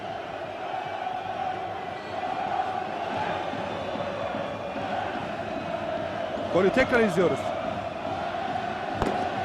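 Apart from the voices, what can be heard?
Trabzonspor fans cheering a goal in the stadium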